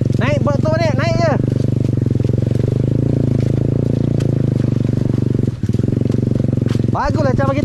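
A motorcycle engine drones steadily and close up during a ride through the jungle in Pahang, with voices talking over it briefly at the start and again at the end.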